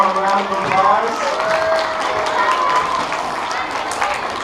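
Audience applause at an elementary school assembly, a steady wash of clapping and crowd noise that holds for several seconds with cheering voices mixed in.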